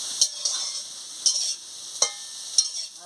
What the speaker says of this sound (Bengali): ভালো করে একটু নাড়িয়ে।